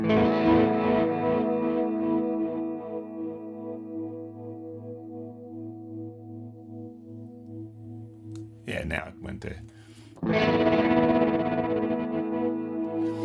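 An electric guitar running through Guitar Rig 7, its tremolo effect's rate swept by an LFO, giving sustained tones that pulse and waver. A short burst of talk breaks in before the modulated guitar returns loudly.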